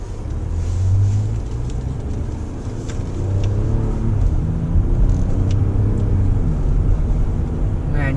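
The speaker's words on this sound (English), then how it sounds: "Let's throw it in the manual, drop it a couple gears." A Lexus RX350L engine revs after a manual downshift of a couple of gears, giving a steady low rumble of engine and road noise from inside the cabin for several seconds.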